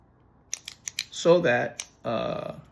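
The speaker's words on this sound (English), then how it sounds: "I take a guillotine cutter and carefully I cut around that" A few quick, crisp snips from a guillotine cutter, spaced close together, followed by someone talking.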